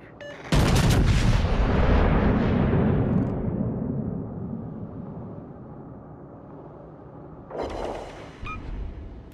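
A heavy warship gun salvo in World of Warships Legends, the Roma battleship firing: one loud, deep blast that rolls and fades over several seconds, then a smaller second boom trailing off near the end.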